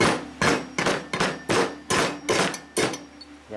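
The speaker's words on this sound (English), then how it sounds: "Hammer it in and let's crack that." Sharp, loud hammer blows on a Harley-Davidson Evolution engine lower-end part, about eight strikes in a steady rhythm with short ringing decay between hits, close by.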